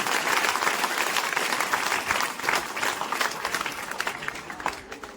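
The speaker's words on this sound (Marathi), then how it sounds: "सर्व विद्यार्थ्यांना विनंती करतो की जोरदार टाळ्या वाजवल्या पाहिजे" Students burst into loud, sustained applause at a school event, a dense wash of clapping that holds steady from start to finish with no voices standing out.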